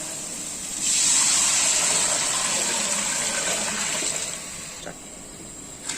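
Water is poured from a vessel into a pot of rice with masala, a close, continuous gushing rush lasting several seconds before tapering off, with no talk.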